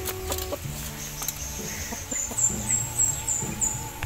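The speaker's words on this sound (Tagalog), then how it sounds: "Mga panabong na manok, oh." Fighting roosters and hens cluck and call nearby in short bursts, with a few higher crowing-like notes, over faint background noise.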